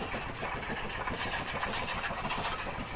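A steady, dense rumble of a moving train in a video game, with continuous rattling and engine noise, constant in level throughout without any talking.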